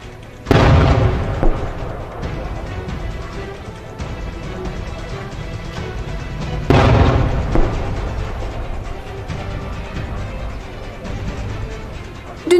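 Artillery shells exploding near a front-line village in Aghdam, Azerbaijan, with two heavy booms several seconds apart, each followed by a long rumbling roar.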